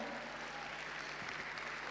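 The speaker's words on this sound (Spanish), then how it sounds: "Txalo bero bat." A crowd at a karaoke competition during a manga convention applauds a performer, a soft, distant, continuous patter of many hands with no voices over it.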